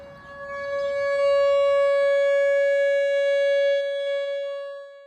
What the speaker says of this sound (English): Outdoor warning sirens like this one play an important role when it comes to severe weather.